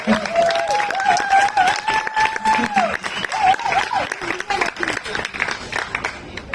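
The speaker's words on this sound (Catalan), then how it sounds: "Més aplaudiments, sisplau." Audience applause at the 2023 Illa dels Llibres literary prize ceremony: steady, dense clapping that fills the whole stretch, with a voice carrying over it.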